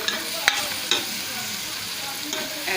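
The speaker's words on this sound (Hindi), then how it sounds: "ऐसे ही इसमें फलियां डालकर इसको हम चम्मच हिलाएंगे।" A spoon stirs guar bean pods in a frying pan, giving a steady low sizzle with a few sharp scrapes and clinks at intervals, close and moderately loud with no talking.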